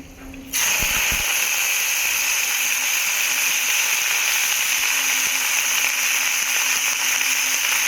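Cut and washed cabbage drops into hot oil seasoned with black cumin, setting off a sudden loud hiss after a short quiet start, then a steady, even sizzle that carries on to the end with no voices.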